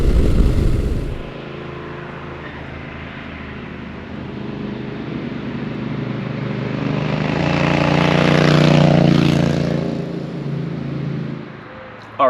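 A Honda Rebel 1100 T DCT cruiser motorcycle engine under way, a steady droning hum that builds gradually to a peak of revs around two-thirds through, then eases off, heard alone without talk.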